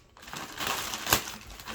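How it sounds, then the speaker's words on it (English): Cardboard and paper packaging around a pair of Clarks Wallabee shoes being torn and crinkled open, a short rustling rip with one sharper crackle near the middle. "Let's rip it open."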